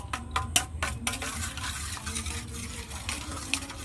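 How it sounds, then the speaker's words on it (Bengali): Eggs beaten for a palm fruit cake batter, a whisk or spoon clattering rapidly against the bowl in quick clicky strokes, close and fairly loud, with a low background hum and no talking. "ডিমটাকে ভালো করে ফাটিয়ে নেব তো ঘুটবো নাড়বো তত কেকটা স্পঞ্জি হবে"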